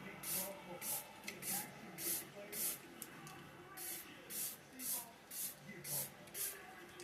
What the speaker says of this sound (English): I'm going to use the Hard Candy Lock on Look, or Look on Lock setting spray